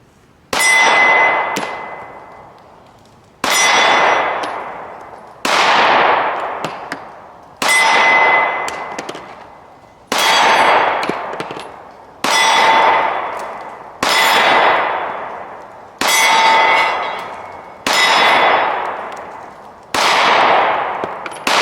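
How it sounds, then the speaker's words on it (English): Glock 43X pistol shots, about ten evenly spaced, each a sharp crack followed by a ringing metallic clang as the round strikes a steel target outdoors, loud and close with brief silences between. "So let's shoot the 43X and try to do the same thing."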